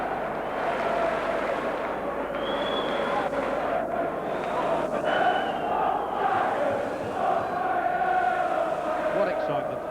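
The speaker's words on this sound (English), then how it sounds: "Look at the excitement, the crowd all up on their feet." A rugby league crowd at the 1988 Hunslet v Widnes championship decider roars continuously, a dense sustained cheer filling the stadium with rising swells of shouting and whistles.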